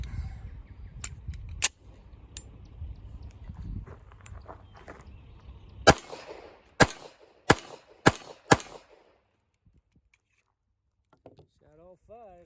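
A 1911 pistol fires five rounds outdoors, five sharp loud reports spaced about a second apart, preceded by scattered clicks and handling noises with some voices in the background.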